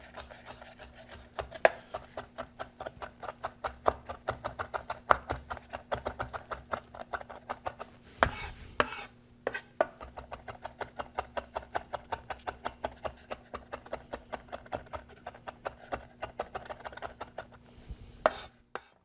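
A knife chops quickly through herbs bundled together on a cutting board, a long run of rapid, evenly spaced taps and light scraping strokes, fairly soft and close, with a short pause midway.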